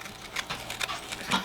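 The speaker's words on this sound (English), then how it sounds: "That was my dog, sorry." A dog close by gives short breathy panting or whimpering sounds in several quick bursts, moderately quiet and heard alone.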